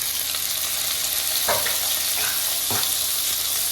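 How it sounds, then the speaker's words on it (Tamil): Carrot, beans and tomato sautéing in a pan for millet kichadi: a loud, steady sizzle with a few spatula scrapes standing out, close up and without voices. "இப்போ வந்து தக்காளியை இது கூட நல்லா ஆட் பண்ணிக்கணும்"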